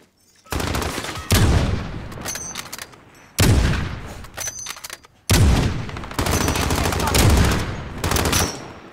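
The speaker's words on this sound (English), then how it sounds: "That was four shots." Bursts of gunfire from Call of Duty Modern Warfare multiplayer, several loud volleys of rapid shots separated by brief gaps, close and dominant, with game effects in between and no talking.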